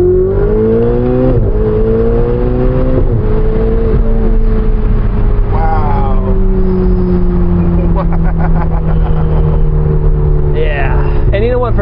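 A Ferrari 488 Spider pulls hard in second gear, its turbocharged engine note climbing and droning loudly from close by, with quick shifts and some wind noise, heard alone without talk.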